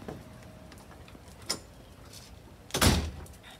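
A house door is opened with a couple of sharp clicks of the latch, then a louder thud and rattle as it swings, close by in a quiet room.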